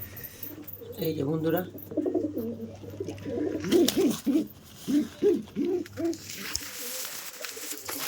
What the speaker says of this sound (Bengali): কালকে যেই পায়রাটা ধরেছি তোমাদের, এই পায়রাটা দেখে নাও তোমরা